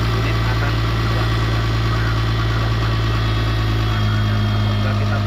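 A Case 2050M bulldozer's diesel engine runs with a steady, loud, deep drone and vibration up close, shifting slightly in tone as the machine begins to move.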